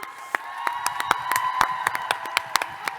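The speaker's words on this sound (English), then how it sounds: "Big round of applause for David and Adam, or Adam and David" Applause with scattered claps and light cheering from a convention audience at a Q&A panel, moderately distant and steady across the whole stretch.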